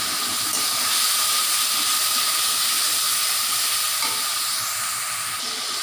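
Turmeric and sugar sizzle in hot oil in a pan as the base for a mustard fish curry, giving a continuous loud frying hiss with faint stirring scrapes close by.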